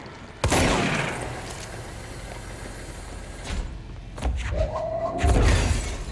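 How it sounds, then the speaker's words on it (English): Bullet impacts in a shooter video game: one loud sharp hit at the start, then scattered smaller thuds and cracks with a brief rising tone, quieter between bursts. "Oh man, bullets hit."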